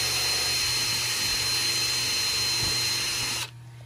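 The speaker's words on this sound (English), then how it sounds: "He's just pre-drilling." A power drill pre-drilling into wood whines steadily at close range for several seconds, then cuts off abruptly, leaving a quiet room tone.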